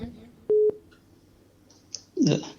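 A dropped phone call gives a short, steady electronic busy tone on the line, loud and clear, followed moments later by a voice speaking.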